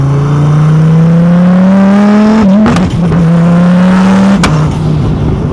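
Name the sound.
car engine revving while accelerating in second gear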